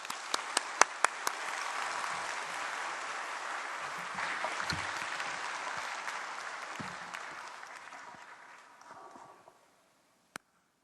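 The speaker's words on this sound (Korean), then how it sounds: "우리가 감사의 박수로 환영하겠습니다" A church congregation applauds to welcome a visiting pastor. A few sharp opening claps grow into steady, dense applause that holds for several seconds, then fades out, followed by one last isolated clap.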